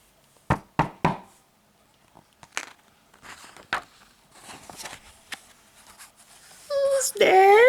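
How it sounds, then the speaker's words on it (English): Several sharp knocks on a wooden door, a quick cluster of three then scattered softer taps, heard as part of a storytelling reading, ending in a loud high-pitched outburst. "He knocked on the door."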